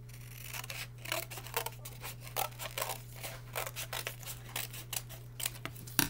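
Scissors cut paper for a caterpillar craft, a series of close, crisp snips in uneven bursts over a steady low hum.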